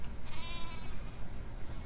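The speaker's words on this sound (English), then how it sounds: "We definitely have way too many sheep." Sheep bleat in The Last of Us Part II, a short wavering bleat over a steady noisy in-game ambience.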